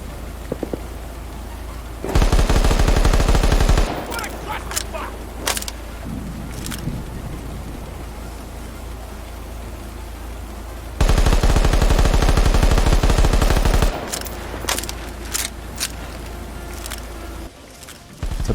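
Weapon fire while aiming through a dual roll scope in the shooter World War 3: two loud sustained bursts of rapid automatic gunfire, each about two seconds, separated by scattered single shots, clicks and quieter handling noise.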